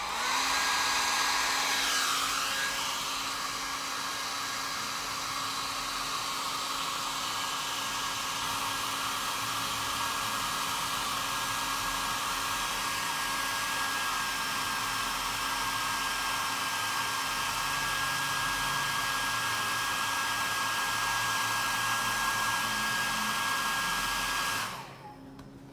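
A hair dryer runs steadily and loudly, close by, drying glued napkin decoupage on an MDF jewelry box, with a constant whine and airy roar for about 25 seconds before switching off abruptly.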